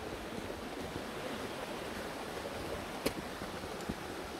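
Steady broadband rush of shallow water running over a ford on a Cornish footpath, continuous and fairly soft with no talk, a couple of small splashes or clicks near the end.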